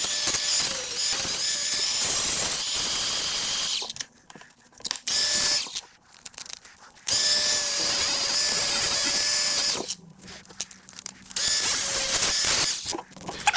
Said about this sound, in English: I'm just going to get the sanding disc on the grinder and just sand around the hub where the caliper carry holds on